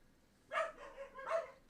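Two sharp barks from indoor dogs, spaced about a second apart, with a softer yip between them, close and moderately loud, with no voices.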